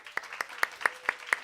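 Church congregation clapping during a Sunday service, heard as six evenly spaced sharp claps, moderately close and fairly faint, with no voices over them.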